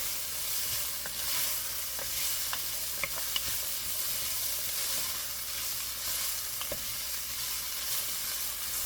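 Carrots sizzling in a pot for elk stew, a steady frying hiss with occasional light clicks of stirring, close and continuous with no talk.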